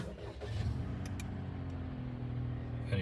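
A Daihatsu Cast Activa 660cc small car engine starts and settles into a steady low idle, heard close up with a brief higher clatter early on.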